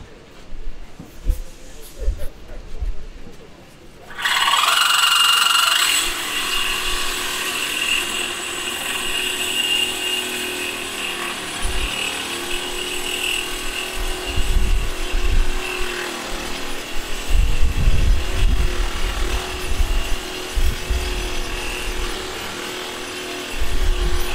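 A saw blade bites into 2-inch schedule 40 stainless steel pipe: after a few seconds of near-quiet, a loud, harsh, continuous grinding rasp with a metallic ring starts and keeps going, rising somewhat in intensity toward the end.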